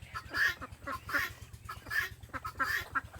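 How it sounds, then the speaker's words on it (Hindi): Backyard roosters and hens calling in repeated bursts, close and fairly loud, with a steady low hum running beneath the clucking. "हमारे मुर्गे और मुर्गियाँ वो भी कर रहे हैं अपना इंजॉय।"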